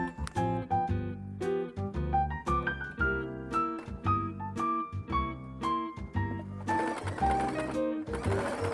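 A sewing machine stitches all the way around an altered garment. Its rapid needle beats run in rhythmic bursts, close and clear, with short pauses between runs.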